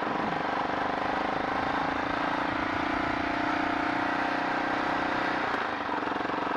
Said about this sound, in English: The exhaust on this thing is absolute flipping trash though